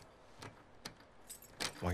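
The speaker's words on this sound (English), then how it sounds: "Did you steal my keys?" Keys jangling in the video game The Last of Us Part II, a few faint metallic jingles over a steady ambient hiss, with a louder rustle near the end.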